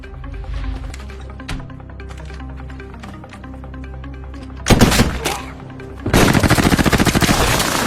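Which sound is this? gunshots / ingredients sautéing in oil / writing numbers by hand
gunshots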